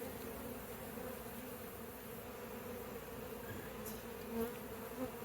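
Honey bees buzz steadily while being removed into a temporary transport box, a continuous close swarm drone with a couple of brief louder passes, no talking.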